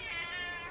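A kitten gives a single short, bright meow, soft and close, with no other sounds around it.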